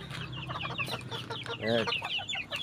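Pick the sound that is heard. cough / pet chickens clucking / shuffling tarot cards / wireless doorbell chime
pet chickens clucking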